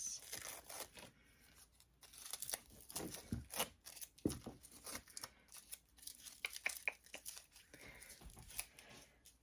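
Tape is peeled in repeated short tearing strips from an embroidery hoop, close and crinkly, with quiet gaps between pulls and no talking.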